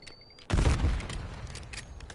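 Incoming fire in the battle royale shooter Call of Duty Warzone: a sudden loud burst of shots strikes at once after a quiet lead-in, then trails off into scattered cracks and rumble.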